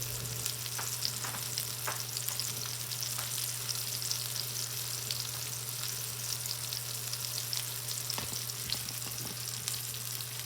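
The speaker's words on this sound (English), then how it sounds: "Nothing beats the smell of chicken frying in a cast iron pan." Chicken pieces frying in a cast iron pan, a steady close sizzle and crackle with scattered pops over a constant low hum, no voices.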